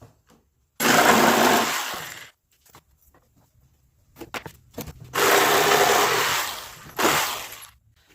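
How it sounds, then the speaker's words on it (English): A handheld jigsaw freehand-cuts a rounded edge on a wooden bread board in two loud, sustained bursts of buzzing sawing, separated by a quiet pause with scattered knocks and handling clatter. "I'm just going to freehand it with my jigsaw"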